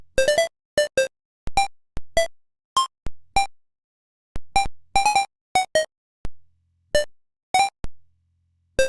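A hidden melody tucked into Nintendo video game music plays as a short run of bright, clipped synthesized notes with uneven spacing and silent gaps, heard alone and fairly clear.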